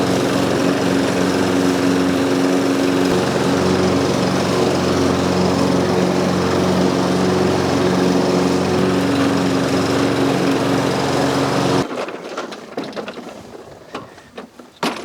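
A Toro front-wheel-drive walk-behind lawn mower running, a loud continuous droning engine with steady whine, close by, cutting off abruptly near the end into quieter rustling.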